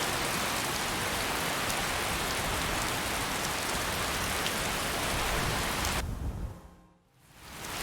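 Steady heavy rain in the video game Skyrim hisses as a dense, loud wash of drops for about six seconds, then cuts away abruptly, dipping to near quiet before returning softly.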